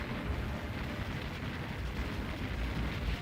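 Turrets being destroyed in a shoot 'em up video game, heard as a dense, steady rumble of explosions and weapon fire that holds at moderate loudness across the whole stretch, with no talk over it.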